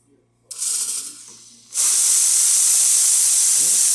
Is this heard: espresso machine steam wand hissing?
yes